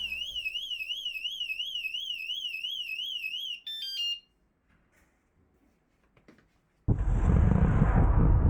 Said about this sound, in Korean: 뇌울림 경보기의 장점을 꼽자면 뭐니뭐니 해도 아주 큰 경보음이다.